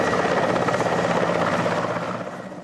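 A helicopter captured by the Afghans from the Soviets thrums steadily with a dense rotor and engine roar, loud and close, easing slightly toward the end.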